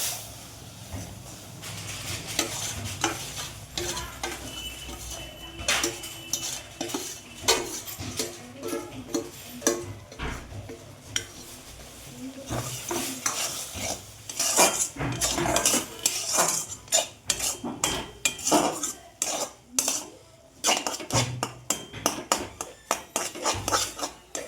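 A spoon clanks and scrapes busily against a pan while watermelon laddu mixture is worked together with powdered milk, giving irregular metallic knocks and scrapes that grow denser and louder toward the end.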